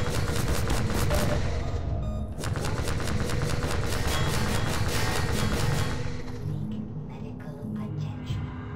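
Rapid automatic gunfire from a weapon in Half-Life 2 rattles in dense bursts for several seconds, then fades into quieter game ambience with someone speaking over it.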